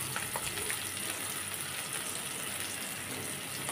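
Chopped onion, sliced green chili and garlic cloves frying in oil, a soft, continuous sizzle heard at moderate distance, quiet and steady with no talk over it.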